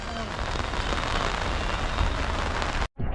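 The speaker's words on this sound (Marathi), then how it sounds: "पाऊस भरपूर आहे इथं" Heavy monsoon rain pours down during a trip to the Jivdani Mata temple, a loud, dense, continuous hiss close to the microphone that cuts off abruptly near the end before resuming briefly.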